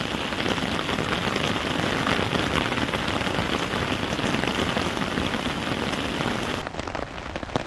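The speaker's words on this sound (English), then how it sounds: "The sky's lightening up a tiny bit and the rain has let up quite considerably. It's still coming down, but nowhere near as bad as it was before." Heavy, steady rain during a thunderstorm at a stealth campsite, a dense, even hiss of drops hammering a surface close by for several seconds, with no voices over it.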